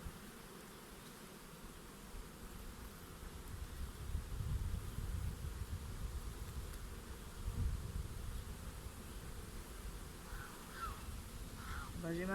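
Honeybees hum around an open, heavily populated hive colony during an autumn check, a dense low drone that swells and fades, with faint voices in the background.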